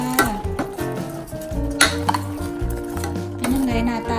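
A ladle scrapes and clinks against a pot while spicy liver soup is dished up to serve, with a few metallic knocks over a steady background hum.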